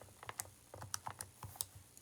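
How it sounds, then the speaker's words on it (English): Calculator keypad buttons tapped in a quick, irregular run of about a dozen light clicks, close and faint, with no voices. "Typing it in my calculator right now."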